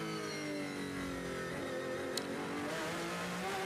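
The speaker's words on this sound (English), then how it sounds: "So there we hear that braking and accelerating again." A Ferrari GT race car at the 24 Hours of Le Mans sounds in the distance, a sustained engine drone with shifting pitch as it slows and then builds revs again, loud and continuous with no voices.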